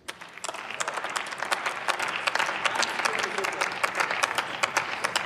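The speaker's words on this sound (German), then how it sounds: "Applaus" Applause from members of the German Bundestag during a parliamentary speech on IT security: dense, steady clapping fills the hall at a loud, even level for about five seconds without letting up.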